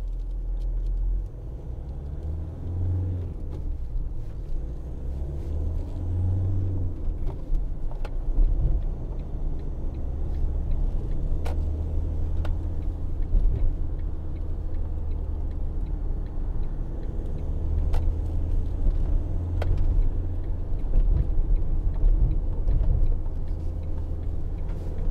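Cabin sound of a 2012 Ford Transit 2.2 TDCi 260 medium van driving on the road, a steady low engine and road rumble with occasional faint ticks and clicks throughout.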